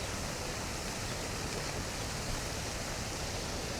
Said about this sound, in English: Now this is a water fountain.